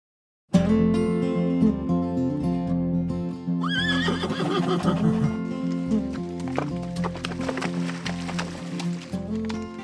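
A horse neighs and whinnies, loud and close, over steady background music, with a long shrill whinny partway through.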